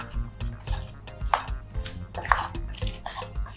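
A spoon knocks and scrapes in a pot while chicken nkwobi mixture is stirred together. The light clinks and soft thuds are close and irregular, with no talking.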